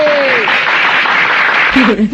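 A crowd claps and cheers in a loud, dense burst after a comic performer's line, with a voice briefly audible at the start and end.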